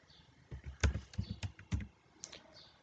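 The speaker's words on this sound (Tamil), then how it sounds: "அதை நான் டைப் பண்ணி எடுத்தேன்" Keys clack on a computer keyboard while entering address details for an online RTI fee payment, a close, quiet run of irregular taps with no talking.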